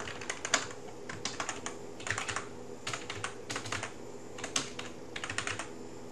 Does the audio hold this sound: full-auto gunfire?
no